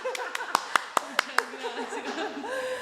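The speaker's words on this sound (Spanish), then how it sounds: "Aplauso, producción." A few sharp hand claps from a podcast studio crew rise over talk and light laughter, a short scattered burst rather than sustained applause.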